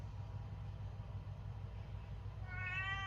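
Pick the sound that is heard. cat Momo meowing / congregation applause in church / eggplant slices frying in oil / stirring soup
cat Momo meowing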